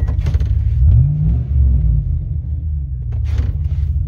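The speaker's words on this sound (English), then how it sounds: "I put a thrush rattler muffler on it." Deep, steady exhaust rumble from a 5.3 Chevrolet Silverado pickup with catalytic converter deleted, side exit and Thrush Rattler muffler, a low drone that swells briefly as the engine revs, heard from inside the cab.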